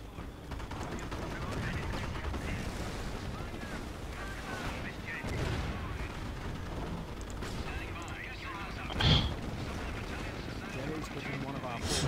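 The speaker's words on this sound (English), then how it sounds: "Fuck that mortar." Company of Heroes battlefield with thudding explosions and gunfire in a cluttered mix, one sharp louder blast standing out near the end, while players talk over the whole stretch.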